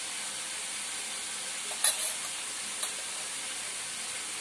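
Spices with chili masala, turmeric and salt fry in hot oil, a steady bright sizzle with a couple of brief scraping stirs partway through, close and continuous with no talk.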